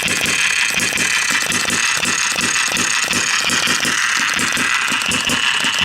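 A six-cycle engine fired by a model airplane coil chugs and rattles in a fast, even rhythm, loud and close with a hissing mechanical clatter, running alone without voices.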